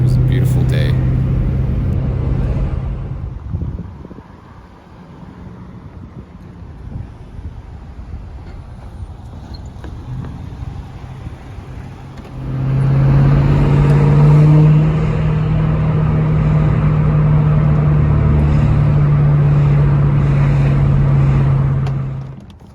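A blue Ford Mustang Mach 1 cruises on a town drive, its engine droning steadily with a strong low hum, easing off midway, then returning louder and sustained under acceleration.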